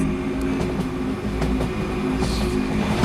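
A train rolls along the rails in a steady, continuous rumble with a low mechanical hum, loud and close throughout, no voices.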